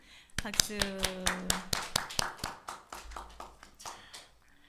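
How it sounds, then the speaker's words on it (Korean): Members of a church congregation clap for a young performer in a sharp, evenly paced rhythm of about a dozen distinct claps, close and fairly crisp, fading toward the end, with a brief voice near the start. "다시 한번 크게 박수."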